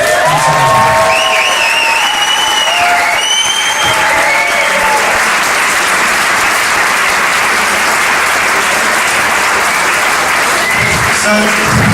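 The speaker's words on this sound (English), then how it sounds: "I want to give a massive, massive round of applause" Guests at a 40th birthday party break into loud, sustained applause mixed with cheers and a few shouts, the clapping dense and continuous throughout.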